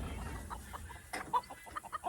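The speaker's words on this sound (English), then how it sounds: "He is a very good rooster." A rooster clucks softly in short, scattered bursts on a small farm, fairly quiet and close by, with a few sharper notes toward the end.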